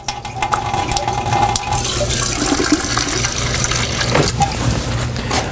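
Water runs steadily from a water ionizer set to alkaline, a continuous loud splashing pour with a low hum beneath it and no talking.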